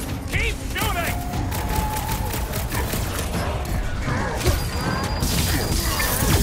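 Thanos boss fight in Marvel's Guardians of the Galaxy, with dense layered weapon fire, crashes and mechanical clatter running throughout at steady loudness, with game voices talking over the chaos.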